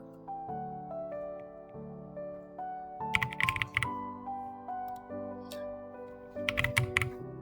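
Typing of new student data on a computer keyboard: two short clusters of quick key clicks over a steady background of sustained musical tones.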